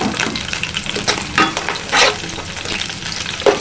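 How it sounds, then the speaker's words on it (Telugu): Slit green chillies sizzle and spatter in hot oil in a pan for a fish gravy curry, with a steady crackle and occasional louder pops and a stir or two; no one speaks. "ఇప్పుడు పచ్చిమిర్చి వేసుకోవాలండి నేను ఒక ఐదు పచ్చిమిర్చి పొడవుగా చీలికలుగా కట్ చేసుకున్నాను"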